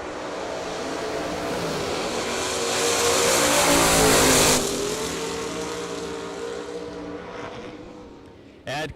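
Drag race cars launch side by side at a dragway, one a Camaro, with loud sustained engine roar that builds, peaks and fades as they pull away, then a short burst near the end.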